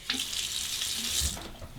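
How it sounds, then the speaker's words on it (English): Cold tap water runs steadily from a faucet into a sink while a shaving alum block is wet under it, a close, continuous splashing hiss lasting about two seconds with no speech. "Just wet this under the cold water."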